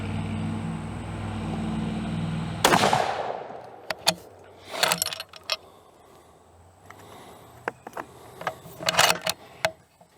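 A rifle fires Winchester 220 Swift ammunition at an outdoor range: one sharp, loud report that trails off, followed by scattered metallic clicks and clunks of the bolt being worked.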